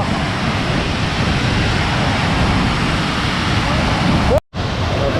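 Water roaring steadily out of the newly opened gates of the Veligallu dam, a loud, continuous broadband rush close by that cuts out for a moment near the end before resuming.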